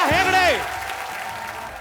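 A TV quiz-show studio audience breaks into applause as guests are welcomed. A host's raised voice rings out over the start, and then a steady wash of clapping carries on beneath.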